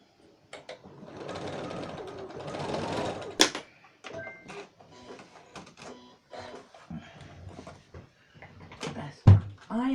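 A sewing machine stitches a quilt seam with a quarter-inch foot, a close rapid mechanical whirr for a few seconds, followed by scattered clicks and handling noises.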